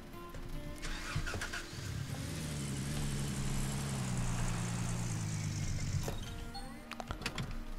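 Car engine in the video game Gold Rush: The Game cranking and catching, then a steady low idle rumble for several seconds before clicks and short mechanical sounds at the end.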